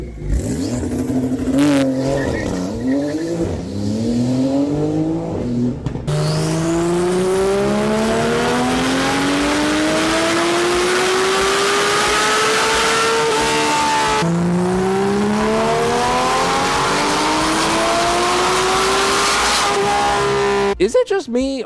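A powerful sports car engine with a muffled exhaust revs and climbs through gears, pitch rising repeatedly with brief drops at shifts, loud and close throughout.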